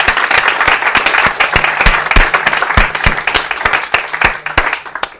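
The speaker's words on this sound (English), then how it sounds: "So we should all give them a round of applause." An audience applauding at a mathematics lecture, dense overlapping hand claps from a large crowd, loud and sustained throughout.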